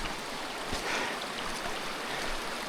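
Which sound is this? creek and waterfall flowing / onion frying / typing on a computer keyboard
creek and waterfall flowing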